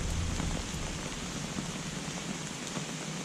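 Steady rain patters down at a carp fishing lake, a dense, even hiss of drops that stays constant throughout with no voices.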